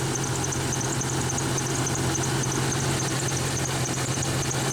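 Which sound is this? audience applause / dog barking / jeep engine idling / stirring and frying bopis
jeep engine idling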